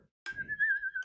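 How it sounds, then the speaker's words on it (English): A single sustained whistled note, wavering slightly in pitch, carries a nervous tune for about a second, close and clear, with some low room noise underneath. "I just whistle a tune because I'm very nervous."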